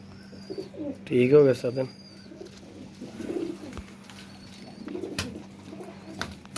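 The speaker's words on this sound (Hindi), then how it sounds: "ये है रामपुरी असल कबूतर जो है" Rampuri pigeons give a few soft, low cooing calls near the microphone, one clearer burst followed by quieter coos, with a voice speaking briefly and a faint steady hum underneath.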